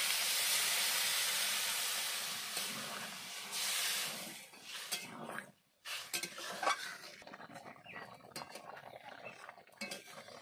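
Water poured into a hot pan of soybeans and potatoes for a vegetarian curry sets off a loud, steamy hiss that fades over several seconds. It gives way to scattered clinks and stirring in the pan, with no talking.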